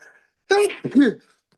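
A single sharp sneeze-like burst from a person, loud and close, followed right after by a brief second vocal outburst, with near silence before and after.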